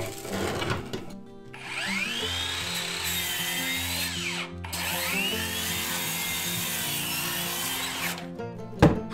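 A power tool cuts a hole through the wooden floor of an upstairs hallway in a 40-year-old house during stair demolition, with two long, loud, whining cuts under load, a brief pause between them, and a clunk at the end.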